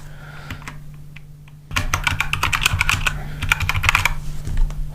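Rapid typing on a computer keyboard while text is entered in a Figma motion-design lesson. Quiet at first, then dense, steady clicking of keys, close and fairly loud, with no speech.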